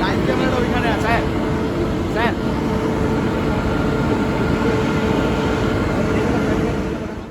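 A passenger express train hauled by a Tata shed WAP 7 electric locomotive stands at a station, producing a continuous low hum and broadband station noise, with faint voices in the background.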